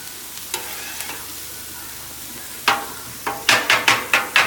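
Onions and ham being flipped on a 36-inch Blackstone griddle, quiet sizzling at first, then a run of sharp metal spatula scrapes and taps that grow louder and come in quick succession near the end.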